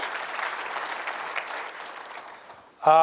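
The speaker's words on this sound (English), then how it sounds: "Let's give Adam a round of applause" Applause from a seated audience at a conference session on mobility planning and autonomous vehicles, a steady wash of clapping that thins out near the end before a louder burst cuts in at the close.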